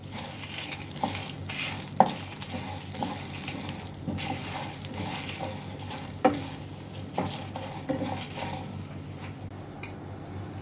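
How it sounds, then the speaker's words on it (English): Tomato rasam heats in a pot with a steady bubbling sizzle, and occasional clinks and stirring knocks from a utensil rise above the continuous simmer. "Let it boil nicely."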